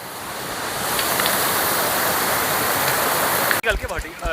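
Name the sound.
small clear mountain stream flowing on the way to Namche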